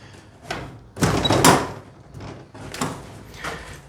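An old door in an early-1800s apartment being opened, a series of scraping, rattling knocks and thuds, loudest in a heavy burst near the start, then softer bumps and shuffles.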